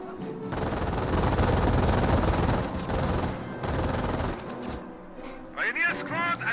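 Sustained MG-42 machine gun fire from Wehrmacht forces in the World War II strategy game Company of Heroes, a dense continuous burst of rapid shots with battle noise, easing near the end into chirpy bird-like sounds.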